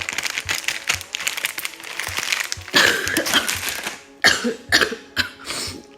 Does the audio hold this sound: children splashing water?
no